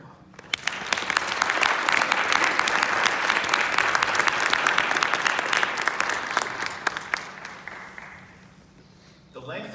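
An audience bursts into sustained applause at a high school hall of fame induction ceremony as Kane Farabaugh is welcomed, the dense clapping swelling and holding for several seconds before thinning out near the end.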